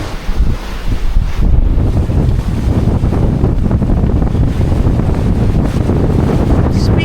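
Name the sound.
wind noise on a fast-moving sailboat at sea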